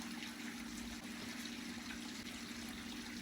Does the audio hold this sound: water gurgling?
yes